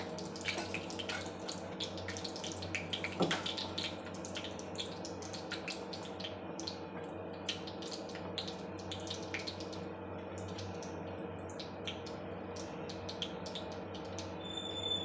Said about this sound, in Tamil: சிறிதளவு கடுகு போட்டுக்கலாம் கடுகு நல்லா பொடியட்டும்